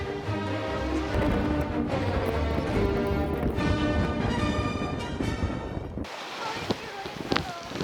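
Strong wind gusts at a seaside spot while fishing for striped beakperch, a loud continuous rush buffeting the microphone, with voices audible under it and a brief drop before the roar resumes.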